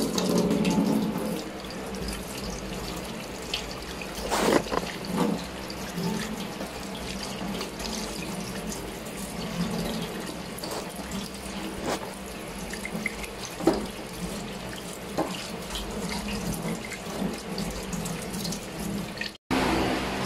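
A tap runs continuously as water rinses off a homemade skin-whitening mixture, a steady splashing stream into a sink with occasional louder splashes and no talking.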